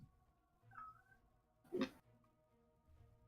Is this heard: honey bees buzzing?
no